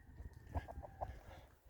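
Close by in a garden, a chicken gives a short run of quick, soft clucks over a quiet background with no talking.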